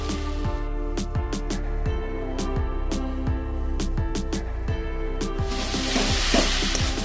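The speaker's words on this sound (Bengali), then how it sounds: "মশলাটা এবার ভালো করে কষিয়ে নেবো" Spice masala for a Bengali crab curry fries in a pan, with repeated sharp clacks of a spoon stirring against the metal over a sizzle that swells into a louder hiss near the end, and no voices.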